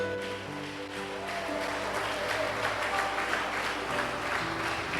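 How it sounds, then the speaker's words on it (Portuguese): A church congregation applauding during a worship service, a steady spread of clapping that holds for the whole stretch, with sustained music tones running underneath. "Agora você aplaude a Ele"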